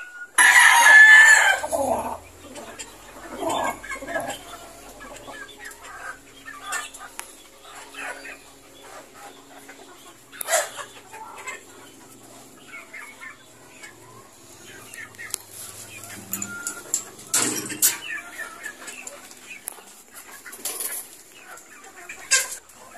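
Pure Boston Roundhead gamefowl roosters crow loudly at the start, followed by scattered clucks and calls from around the farmyard under a voice talking, with a dog barking now and then.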